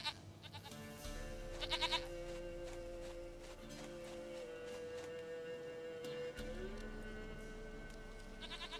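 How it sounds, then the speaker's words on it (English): Goat bleats in The Witcher 3, two short wavering calls near the start and middle over a steady ambient game soundscape with faint background music, no voices. "Goat of mine, dearest, sweetest goat."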